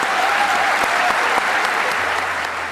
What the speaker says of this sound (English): Yeah, please give them a round of applause.